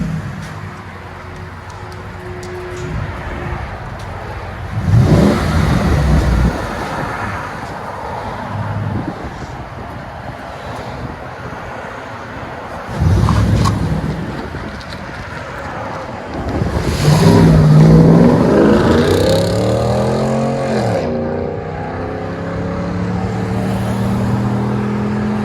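A 2015 Ford F-150 XLT with the 5.0L Coyote V8 and stock catalytic converters revs outdoors, its exhaust swelling in several loud bursts between stretches of idle rumble, with wind buffeting the microphone.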